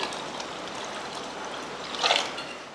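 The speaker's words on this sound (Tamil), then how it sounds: "தண்ணி ஊற்றி விட்ருவோம்" Water trickles and pours steadily into a cooking pot at a soft, close level, with a brief louder splash near the end.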